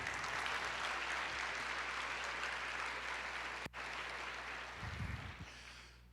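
Steady applause from a church congregation during a sermon, a dense wash of hand claps that holds for several seconds, then thins and fades toward the end with a few louder bursts.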